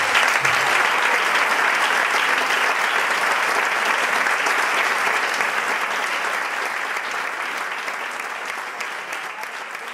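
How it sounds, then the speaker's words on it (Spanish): Audience at a zarzuela concert bursts into loud, dense applause that carries on steadily across the full stretch, easing off slightly toward the end. "¡Un aplauso!"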